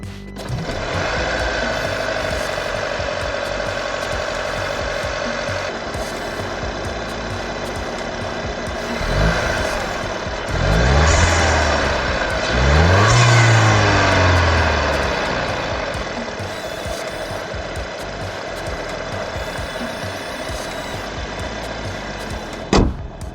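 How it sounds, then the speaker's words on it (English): A 2025 Audi Q3 petrol engine idles steadily and quietly up close, with a brief swell in revs partway through before it settles back to a smooth hum. "The engine runs quietly and refined."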